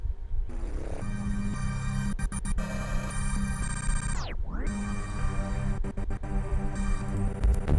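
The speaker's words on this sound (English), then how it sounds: "I'm going to add another effect called glitch" Dense, distorted electronic tones from a glitch audio effect stutter and cut out abruptly, with a sharp pitch dive midway and choppy dropouts throughout, loud and continuous with no talking.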